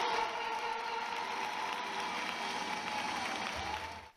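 Sustained applause from a crowd at a school's indoor sports court, greeting around 450 young athletes from a sports gathering; dense, steady clapping that fills the space evenly and fades out near the end.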